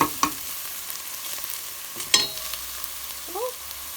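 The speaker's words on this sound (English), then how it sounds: "So just keep stirring now and again" Chicken jalfrezi frying in a pan while being stirred now and again: a faint background sizzle broken by a few sharp utensil clinks and scrapes, the loudest just past the midpoint, with no talking.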